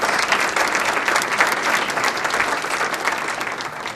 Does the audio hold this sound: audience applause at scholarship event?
yes